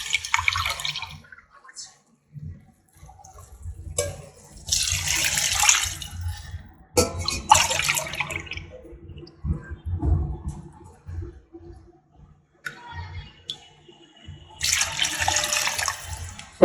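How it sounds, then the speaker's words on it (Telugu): Water poured from a lota onto rice for chicken pulao, several splashing gushes in separate bursts with gaps between them, close and loud, with a person talking quietly in the pauses. "ఇప్పుడు నేను 2 లోటాలు పోసుకుంటున్నాను అనమాట"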